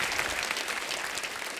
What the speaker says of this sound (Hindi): जोरदार तालियां हो जाए मेरे भाई के।